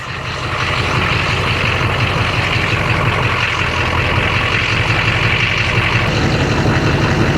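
A 2004 GMC 3500 Duramax diesel truck runs steadily in drive, its engine a loud, constant low rumble with a faint high whine and no talking.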